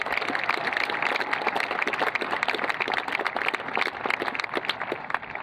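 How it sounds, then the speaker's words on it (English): Graduation audience at Ponderosa High School's 2025 commencement applauding steadily, a dense wash of many hands clapping that stays loud and even from start to finish with no voices on top. "You may now applaud."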